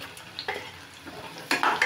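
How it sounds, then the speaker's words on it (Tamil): Garlic and onions sautéing in a pan for a Tamil garlic kuzhambu, with soft sizzling and a few scraping stirs of a utensil, building to a louder burst of frying near the end. "இப்போ நம்ம வெங்காயமும் சேர்த்து வதக்கிக்கலாம்."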